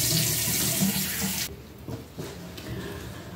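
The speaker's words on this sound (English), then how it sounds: "we're gonna go ahead and rinse this off" A tap runs strongly into a sink while a skincare product is rinsed off: a loud, close, steady rush of water that stops abruptly partway through, leaving quiet room sound with faint splashes and drips.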